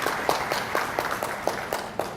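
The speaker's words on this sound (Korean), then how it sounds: "여러분들 박수 한번 부탁드립니다." Audience at a smart factory conference and expo clapping for a speaker, a fairly loud patter with regular sharp claps standing out, close by.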